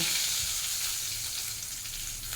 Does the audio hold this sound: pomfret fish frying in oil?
yes